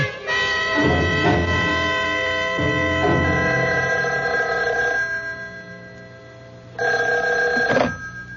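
A telephone bell rings in repeated loud bursts, each ring followed by a short pause, close by with no talking over it.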